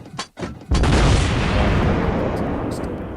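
Battleship Gneisenau's main guns fire in World of Warships Blitz, two sharp early blasts followed by a heavy booming salvo that rumbles and slowly decays, loud and close.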